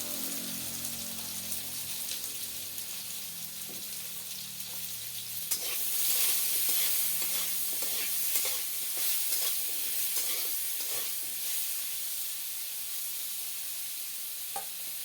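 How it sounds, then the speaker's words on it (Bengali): Plantain fries in a pan with a continuous close sizzle, broken by scraping stirs and a burst of crackling spatter near the middle that settles back to an even fry. "এবার কলাটা একটুখানি ভাজা ভাজা করার জন্য দিলাম ঢেকে"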